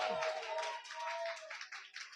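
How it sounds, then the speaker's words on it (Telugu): Many hands clapping together in a dense, steady patter, a church congregation applauding at a moderate distance during a Sunday service. "చప్పట్లు కొట్టి ప్రభునామాన్ని కనపరచండి"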